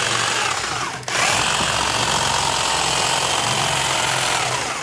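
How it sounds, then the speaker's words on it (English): Reciprocating saw cutting the top off a pumpkin, a loud continuous buzzing rasp that holds steady for nearly five seconds, with one brief dip near the first second, and no talk over it. "the first thing is to take the top off the pumpkin, so I use this thing, a reciprocating saw."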